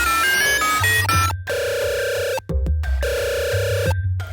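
A telephone rings on an outgoing call, with repeated electronic ring tones in even bursts separated by short silent gaps, loud and close.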